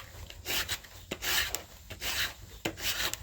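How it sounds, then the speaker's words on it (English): Sandpaper worked by hand over a mulberry wood carving-hammer handle to round it, giving close, faint rhythmic rasping strokes in short back-and-forth bursts with brief pauses between. "take some sandpaper, come down, just kind of keep a nice rounding as you go"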